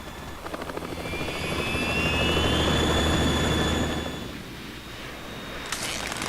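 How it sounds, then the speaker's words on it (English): A Harrier jet hovering in the video game Metal Gear Solid 2, a loud sustained engine roar with a rising whine that swells and then eases, heard alone. "It's the Harrier."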